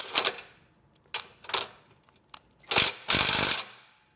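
A power tool runs in several short bursts, with longer whirs near the end, tightening new bolts into a Roadmaster Direct-Connect base plate on a 2019 Jeep. The bursts are close and fairly loud, separated by quiet gaps and faint clanks.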